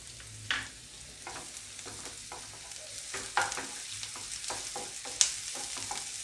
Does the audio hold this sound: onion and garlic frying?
yes